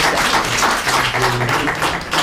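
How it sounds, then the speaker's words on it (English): Audience applause for panelists fills a session at a biennial conference on disabilities: a steady, dense wash of clapping that holds at an even level throughout, with no voices on top. "A round of applause again for all our panelists"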